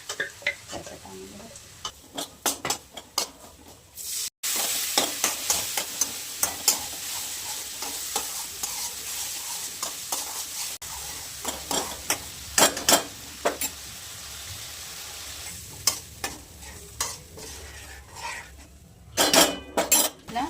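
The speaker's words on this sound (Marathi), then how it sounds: "त्याच्यात ना आपण हे वाटलेला मसाला टाकून घेणार आहे." Ground homemade masala stirred into cumin, garlic and turmeric frying in a pan for stuffed okra, with a steady sizzle under repeated scraping and clinking of a spoon against the pan, close and clear, with no talk.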